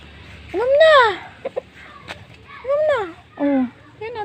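Several rising-and-falling bird calls, clucky and vocal like a chicken, arrive in separate bursts, close by and fairly loud, with quieter sounds between.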